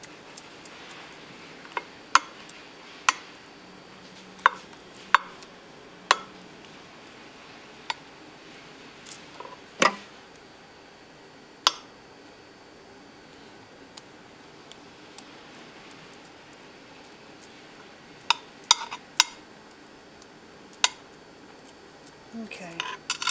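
A spoon spreads filling over a raw lasagna in a dish. Faint, sporadic clinks and taps of metal against the dish sound at irregular intervals over a quiet background.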